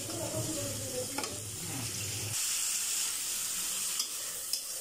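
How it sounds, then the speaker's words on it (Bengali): Spice paste sizzling and being stirred in a pan for a tomato-based fish curry, a steady frying hiss with scraping stir strokes, loud and close, the low scraping dropping away midway and leaving a lighter sizzle. "মশলাটা কষানো"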